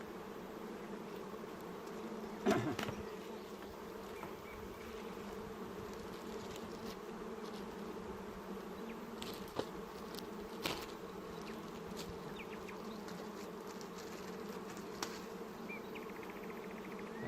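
Honey bees hum steadily around an opened hive as colonies are moved from a crowded double hive into single hives, a soft, continuous drone with a few individual bees buzzing briefly close by.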